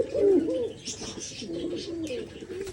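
Pigeons coo close by in a rural village home, a few soft, throaty rolling coos with faint chirps, quiet and alone without talk.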